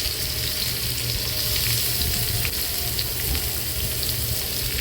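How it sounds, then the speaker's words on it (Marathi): Finely chopped onion sautés in oil in an iron griddle pan for egg bhurji, a steady close sizzle with faint stirring scrapes running without pause and no voices. "आता कांदा व्यवस्थित परतून घ्यायचा आहे"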